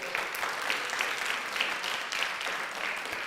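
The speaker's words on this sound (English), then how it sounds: "Let's give her a round of applause." A church congregation at a Sunday service applauds the leader of hospitality and flower sponsorship, with sustained, moderately loud clapping from many hands that carries on steadily for several seconds and has no talk over it.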